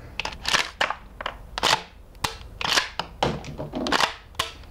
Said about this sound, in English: you cock the gun, okay, shoot, and then you see